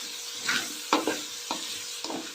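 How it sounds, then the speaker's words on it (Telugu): A spoon scrapes and stirs through a masala bottle gourd curry in a pan as salt is mixed in, giving four distinct stirring strokes over a soft background sizzle. "ఉప్పు వేసి బాగా కలుపుకొనేసి కలిపేలాగా"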